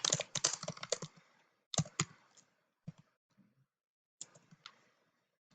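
Quick bursts of typing on a computer keyboard, with dense clicking keystrokes in clusters separated by pauses, close and fairly quiet.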